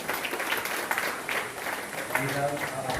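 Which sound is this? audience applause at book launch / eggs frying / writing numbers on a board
audience applause at book launch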